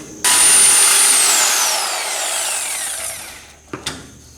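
A Sawzall reciprocating saw cuts hard through the metal exhaust of a 1953 Chevy rat rod with a loud, close, rasping buzz that runs for about three seconds. Then it fades and stops, and two sharp knocks follow.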